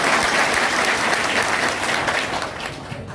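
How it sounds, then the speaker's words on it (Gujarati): A crowd claps loudly at the opening of a political party office in Kavant, Chhota Udepur, welcoming a speaker; dense applause lasts about three seconds and fades slightly at the end. "જોરથી તાળીથી સ્વાગત કર્યું"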